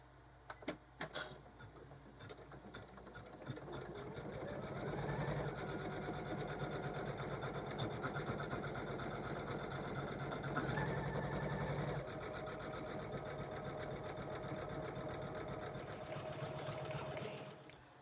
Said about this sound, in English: now it is finished doing the satin stitch around all the book spines